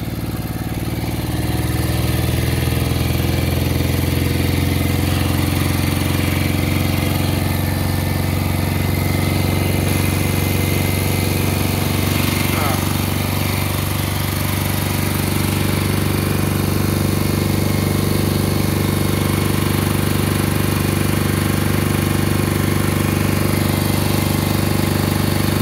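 A 1968 Moto Guzzi V7 700 motorcycle with freshly sleeved cylinders idles close by, a loud, even, throbbing engine drone that holds steady for the whole stretch.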